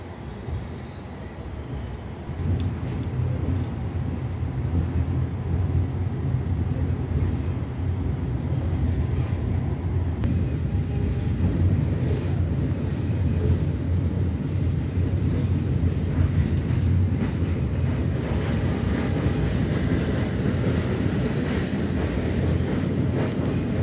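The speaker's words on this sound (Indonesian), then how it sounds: "kereta api Matarmaja diberangkatkan dari stasiun Malang" Matarmaja train pulling out of Malang station, heard from on board as a steady, loud low rumble with wind noise that grows slightly stronger as it moves.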